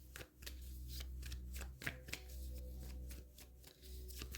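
Tarot cards being cut and shuffled by hand, a steady run of soft riffling flicks and papery slaps with brief pauses, close up against a low background hum, no talking.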